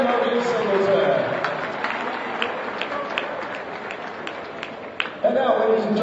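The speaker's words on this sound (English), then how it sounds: "a nice round of applause for both of our seniors honored here this evening" An audience applauds seniors being honored at a college basketball game, a steady wash of clapping and crowd noise in an indoor gym, with a voice over a public address system heard briefly.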